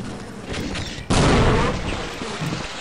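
A grenade blast in the game Half-Life, a sudden loud boom that breaks in over faint background noise and then rolls out in a long, rumbling decay.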